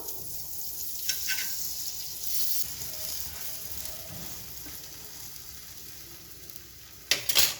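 Vada pav bread toasting in butter on a hot street-food griddle, a steady close sizzle throughout with a few brief scraping clicks near the end.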